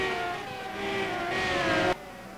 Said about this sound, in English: the cars sound so bad